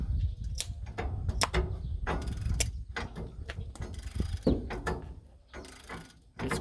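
A hand ratchet with a swivel turns a nut in a cramped space, making a run of quick, close mechanical clicks and ratcheting ticks, irregular in rhythm.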